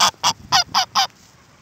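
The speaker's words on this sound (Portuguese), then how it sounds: "Achei uma gansa aqui, choca." A brooding goose honks five times in a quick, evenly spaced series, loud and close, with a quiet outdoor background and no talk.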